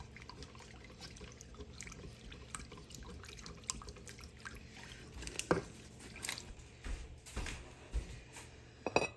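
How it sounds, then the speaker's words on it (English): Mornay sauce whisked in a pan over heat as it thickens, giving soft wet squishing and light tapping strokes at a steady pace, fairly quiet and close with a few sharper clinks. "We're going to whisk this until it thickens."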